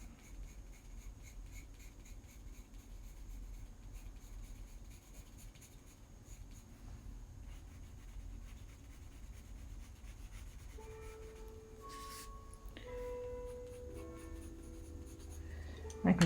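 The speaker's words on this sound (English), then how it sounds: "I can go in with my softer pencil to get these darker areas." Pencil shading on paper, a soft continuous scratchy rubbing that carries on steadily at close range and quiet level, with a few brief tonal sounds near the end.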